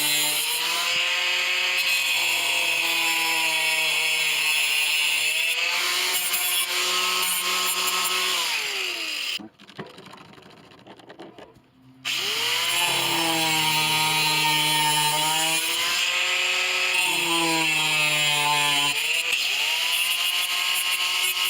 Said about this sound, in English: So I'm just going to cut along those lines with an angle grinder.